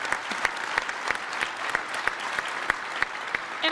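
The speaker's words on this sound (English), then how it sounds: "Sellers, can we give a huge round of applause to Danny, Christy?" A business keynote audience gives a round of applause, a fairly quiet but continuous patter of many hands with regular, distinct louder claps from nearby listeners.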